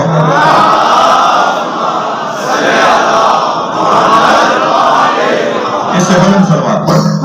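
A mosque congregation recites salawat aloud in unison, a dense, loud crowd chant with swelling and falling waves of many voices.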